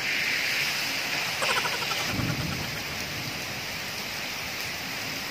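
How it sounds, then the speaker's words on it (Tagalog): Steady, heavy rain pours down as a dense hiss throughout, with a brief thump and rattle near the start, no voices. "Lumakas na naman yung ulan."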